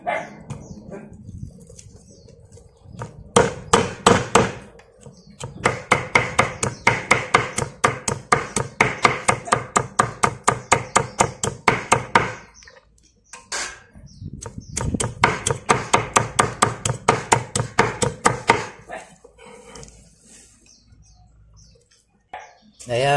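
Lemongrass, chili and ginger are minced with a knife on a board in rapid, steady bursts of chopping, two long runs of close, sharp taps separated by a pause.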